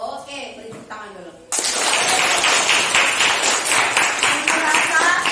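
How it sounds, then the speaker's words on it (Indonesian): A classroom of students breaks into loud, sustained group applause, dense and even clapping that starts abruptly after a teacher speaks. "Oke, beri tepuk tangan dulu."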